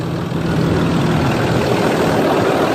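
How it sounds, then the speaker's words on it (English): A Land Rover Discovery 3 engine idles steadily close by, a smooth low hum with faint mechanical whir and no speech over it. "As you can see, the engine is running"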